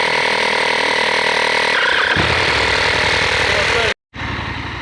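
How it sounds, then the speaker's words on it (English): Portable air compressor inflating a tubeless motorcycle tyre on a Tenere 700, a loud, steady buzzing drone close by that briefly cuts out and then restarts. "Getting the compressor out. That's going to get some air in the tyre"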